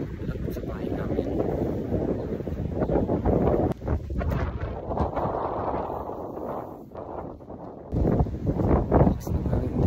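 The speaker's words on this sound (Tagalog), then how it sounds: "Lakas na hangin dito ngayon kasi maulan." Strong, gusty wind on a rainy day outdoors while walking near home roars and buffets the microphone in a loud, continuous rush that rises and dips with the gusts.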